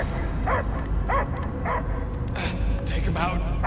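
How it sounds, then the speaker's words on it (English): A dog in the video game Guardians of the Galaxy barks in a few short, evenly spaced yips over a steady game soundscape, with voices talking around it. "I hear only barking"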